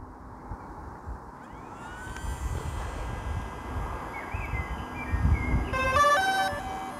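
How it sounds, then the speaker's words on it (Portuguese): A DJI Phantom 4 Pro quadcopter powers up outdoors: its motors spin up into a rising whine over a steady hum, followed by a short series of stepped electronic beeps. "e agora ligando o drone."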